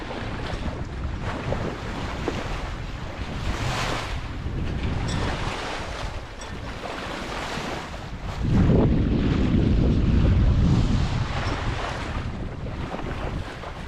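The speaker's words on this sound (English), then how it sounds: "Lovely to feel the Atlantic swell and just cruising along nicely at about 5 knots." A Rival 41 sailboat cruising at about 5 knots through Atlantic swell under full main, Yankee and staysail, with steady rushing wind and wash of water along the hull, swelling louder in gusts, no talk.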